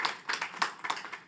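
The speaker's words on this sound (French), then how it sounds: "On applaudit." A small gathering at a Mother's Day celebration claps briefly, a few bursts of soft hand claps in an uneven rhythm, faint and fairly close.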